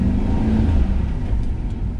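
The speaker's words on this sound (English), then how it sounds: "When I step on the gas" A car engine revs under the throttle during an ABS troubleshooting test drive, a loud, close rumbling drone that stays fairly even for about two seconds, with no voices.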